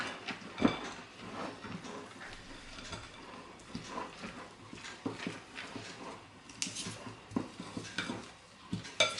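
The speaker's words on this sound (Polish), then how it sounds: "I teraz do ciasta dokładam rodzynki. I mieszam." Raisins being stirred into a thick cake batter, giving soft, irregular scraping and clicking of a spoon against the bowl, close and fairly quiet, with a few sharper knocks and no speech.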